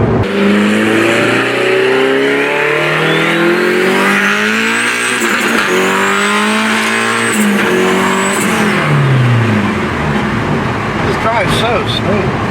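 A Honda S2000 CR engine and exhaust rev hard, swelling and falling in repeated sweeping pulls, loud and close, with voices talking over parts of it.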